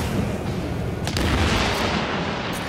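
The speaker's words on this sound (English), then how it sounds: "Let me frag grenades at you so you can just keep throwing frag grenades." Frag grenade explosions in The Division video game make a loud, dense roar of booming blasts and crackling gunfire. Several sharper bursts stand out over a constant wash of battle noise.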